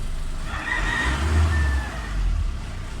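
An Isuzu Crosswind engine idles steadily while still cold, with a low, continuous rumble close to the microphone and a slight rise in the middle.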